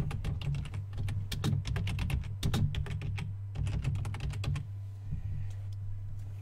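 Rapid clicking keystrokes on a computer keyboard come in quick bursts at close range, then slow and stop against a steady low electrical hum.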